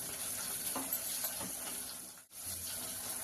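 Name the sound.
onions and curry leaves frying in a cooker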